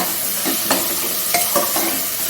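A tomato and onion masala with salt just added is stirred in a hot pan, with a continuous sizzle and several distinct scraping strokes close by.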